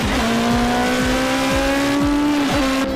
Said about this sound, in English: now as this car accelerates up the main straight